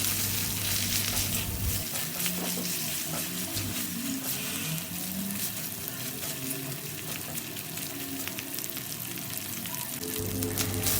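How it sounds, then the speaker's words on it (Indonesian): Spice paste sautéing in a pan for Indonesian nasi kuning (yellow rice), giving a steady close sizzle with some stirring and watery clatter, and no talk over it. "ini di sini aku tumis semua bumbu-bumbunya"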